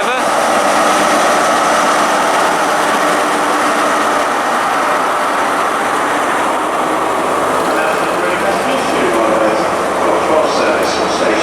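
Train 43195 for Bristol Temple Meads passing through Reading station on the Great Western Main Line, a loud, steady engine roar and rumble that holds for the whole stretch.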